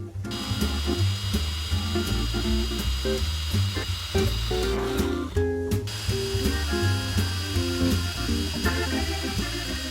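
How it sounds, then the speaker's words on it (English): A power drill whines steadily while drilling holes through metal and wooden dowel rod, pitch wavering as it bites, with brief dips where the load changes; close and continuous throughout. "So let me drill this real quick"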